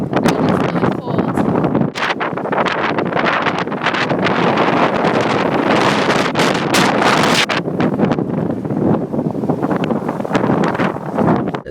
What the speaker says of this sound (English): it's windy and it's really cold.